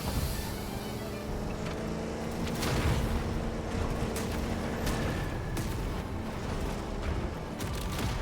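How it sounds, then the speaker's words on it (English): Dense rumbling explosions and booming blasts in the Halo Campaign Evolved level The Maw, a continuous loud roar with repeated sharp bursts layered over it. "And some extra explosions for good measure."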